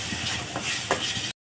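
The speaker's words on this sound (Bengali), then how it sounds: "এই চিংড়ি মাছটাকে একটু লাল করে ভেজে নেব।" Shrimp frying in a pan to brown them for a bitter gourd dish, with a steady near sizzle and a few soft stirring scrapes before a brief cut to silence.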